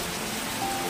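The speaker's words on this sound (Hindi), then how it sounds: "बहुत ही जोर से बारिश हो रहा" Heavy monsoon rain pours down, a steady, dense hiss of drops on surfaces with no break, moderately loud and filling the whole moment.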